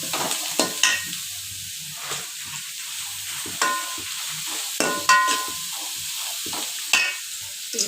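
Carrots sautéing in a pan for Tamil kara poli, a steady sizzle broken by repeated scraping stirs of a spoon roughly every second or two, close and clear with no talking.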